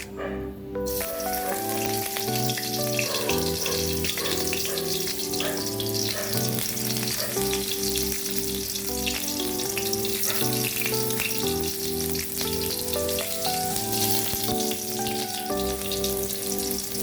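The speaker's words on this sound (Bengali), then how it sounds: "পেঁয়াজ রসুনগুলো বাদামি কালার করে ভেজে নিব" Chopped onion, ginger and garlic with bay leaf, cardamom, cinnamon, panch phoron and cumin fry in oil until browned, a loud, continuous crackling sizzle over steady background music.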